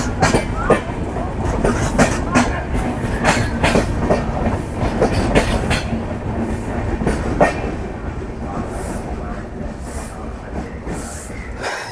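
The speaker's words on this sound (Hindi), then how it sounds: "हमारी जो ट्रेन है कोलकाता जम्मू तवी, ये भी अब अराइवल के बाद डिपार्चर को रेडी है।" Kolkata–Jammu Tawi passenger train at a station, a steady rumble of carriages with rhythmic clickety-clack wheel beats and occasional sharp squeals, continuous and fairly close, with faint voices in the background.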